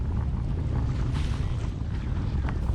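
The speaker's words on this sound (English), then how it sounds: "situations like this where the wind is howling in" Strong storm wind buffets the microphone on an Ontario lake reef spot, with waves pounding in. A loud, steady broadband roar with gusty surges carries on throughout, with no talking.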